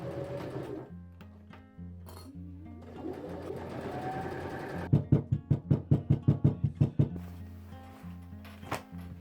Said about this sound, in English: Finally, we can make a little leather vest by stitching up the shoulder seams.